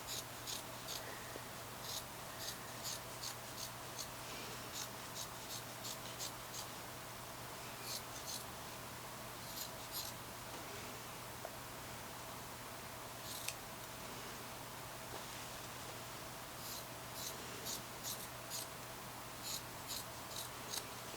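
Scissors trim fabric seam allowance on a dress, a quiet indoor series of short, crisp snips that come in small irregular clusters over a faint steady hum.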